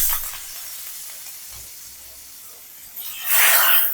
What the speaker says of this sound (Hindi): अच्छे से इसको मिक्स करेंगे और इस कढ़ी के ऊपर डाल देंगे